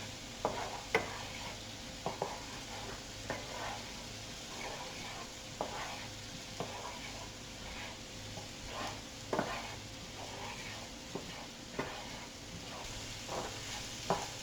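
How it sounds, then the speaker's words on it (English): Cajun hash browns sizzle and fry in a pan over high heat while being stirred, with scraping strokes recurring every second or so above a steady crackle. "We're going to keep stirring this, making sure that it softens really well."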